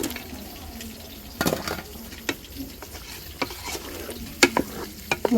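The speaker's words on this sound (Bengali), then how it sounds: "এই যে মুরগি দিয়ে দিচ্ছি," Chicken frying in a spiced masala with cinnamon, cardamom and bay leaf, a steady sizzle broken by repeated scraping stirs of a spoon against the pot, close and without talk.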